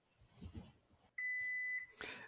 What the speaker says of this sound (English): My 15-minute timer went off